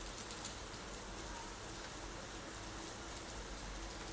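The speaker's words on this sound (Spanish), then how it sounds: "Es que está lloviendo tanto." Heavy rain falls steadily as a dense, even hiss with no breaks, heard indoors at a moderate level, with no voices over it.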